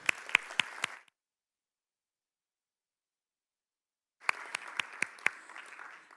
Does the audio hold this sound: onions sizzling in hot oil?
no